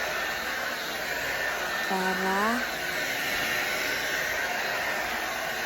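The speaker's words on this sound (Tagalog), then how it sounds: "Nag-blower na ako sa kanyang buhok" A hair dryer blows steadily as it dries a girl's hair before school, a constant close whooshing whine, with a voice speaking briefly over it.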